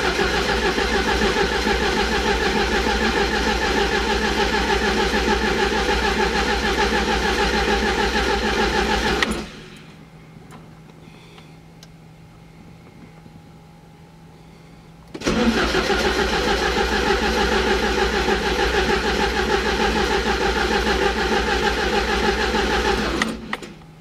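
A 1987 Porsche 944S engine cranks and runs loudly up close for several seconds, drops to near silence, then roars back to life and runs steadily again until a sudden cutoff.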